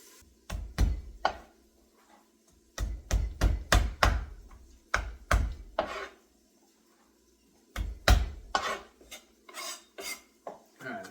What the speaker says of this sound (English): Now the fun part, peeling it